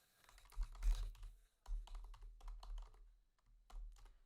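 Java code typed on a computer keyboard, short bursts of close, crisp key clicks separated by brief pauses, with no talk over the typing.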